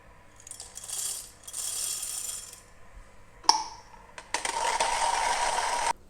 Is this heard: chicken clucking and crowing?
no